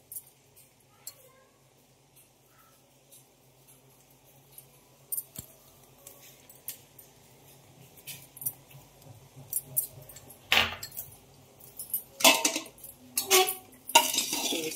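Potatoes and crushed peanuts stirred in a pan, giving scattered metallic scrapes and clinks that start sparse and faint, then grow louder and denser toward the end, with a quiet voice in the background.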